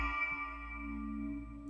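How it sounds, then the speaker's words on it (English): Metal bass patch from the Harmor 8 synth with a phaser switched on, sounding as a steady, sustained droning tone with rich buzzing overtones that holds evenly on its own throughout. "Now we can turn the phaser on."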